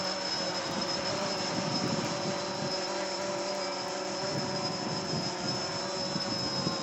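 WLToys V303 Seeker quadcopter with a Walkera 2D G gimbal flying in a test flight, a steady buzzing motor drone at moderate distance, fairly even throughout.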